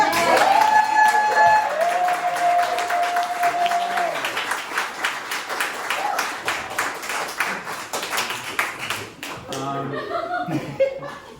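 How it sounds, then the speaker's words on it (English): A theater audience gives another round of applause during a post-show Q&A, with sustained, dense clapping over speech and some laughter, tapering into a few scattered claps at the end. "I just wanted to like give these guys another big round of applause"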